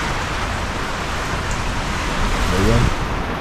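Steady heavy rain falling during a flood, a continuous loud hiss of water throughout, with a brief voice rising near the end.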